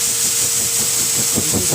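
A pet hair blower dryer runs continuously while a cat is groomed after shampooing, giving a loud, steady, close airy roar for the whole short stretch with no talk.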